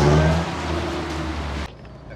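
Reliant Kitten 848cc economy estate from the early 1980s driving round a wet roundabout, its small engine droning steadily close up before the sound drops abruptly.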